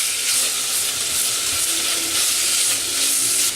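Grated ginger sizzling in hot oil in a karahi while being stirred, a steady close frying hiss with faint scraping and no speech.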